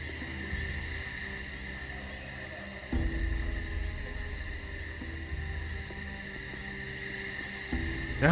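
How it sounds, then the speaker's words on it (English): Crickets chirp in a steady, shrill drone over ambient game sound in Gothic 2, with a low rumble of background music or wind underneath and no voices. "Now these crickets are so noisy."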